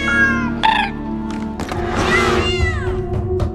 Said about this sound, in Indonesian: ia dikejutkan suara kucing yang membuatnya penasaran